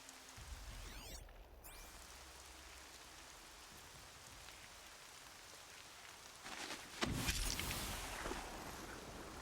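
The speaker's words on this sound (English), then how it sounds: "Rain's not so bad." Steady rain in the video game Horizon Zero Dawn, a faint, even hiss of falling drops with a louder splashing burst partway through and soft game sounds early on.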